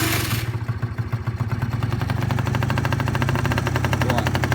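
A Peugeot Speedfight 50cc scooter engine ticking over just after starting, in a steady, rapid, even putter that settles into a regular idle rhythm, close and fairly loud, with no voices.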